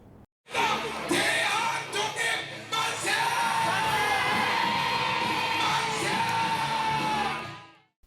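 A large crowd at a street reenactment of a March 1919 independence march in Busan shouts and cheers in unison, loud and sustained, with yelling voices rising together before fading out at the end.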